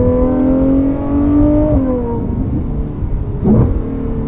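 Straight-piped Ferrari 812 GTS V12 accelerating hard while struggling for traction, a loud rising engine note that sweeps up, dips at a shift, then roars again, close and continuous with no talk.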